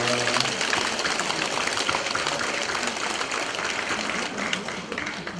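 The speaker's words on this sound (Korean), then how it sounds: "교무님께 큰 박수를 보내주십니다." Dense audience applause fills a lecture hall at a Won Buddhist volunteer association's national officers' training session, a steady wash of clapping held at constant loudness throughout with no break.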